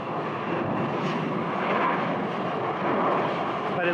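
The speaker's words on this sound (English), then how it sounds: "I can hear the engine running." Aircraft engine turning over during a ground run test at Phoenix Sky Harbor Airport, with the beacon on and the cowl open. It makes a continuous, even drone at moderate distance, steady for the whole stretch.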